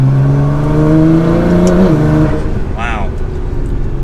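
Nissan GT-R R35 engine revved at half throttle: a near, loud tonal rise that holds, then drops away after about two seconds into a quieter idle, with a brief voice near the end.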